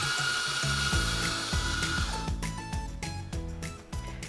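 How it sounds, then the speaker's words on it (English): An espresso grinder grinds coffee beans with a loud, steady motor whir and a rough, rattling grind that runs throughout the clip, with no voices. "Now that our filter is clean, we can move towards the grinder."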